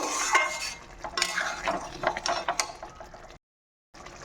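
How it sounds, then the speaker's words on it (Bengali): A spoon stirs sugar into a pot of chickpea dal and potato curry, giving a series of scraping, clinking strokes against the pan, fairly close and irregular, then a brief silent gap before faint handling resumes. "চিনিটা দিয়ে একটু নাড়াচাড়া করে মিশিয়ে নেব"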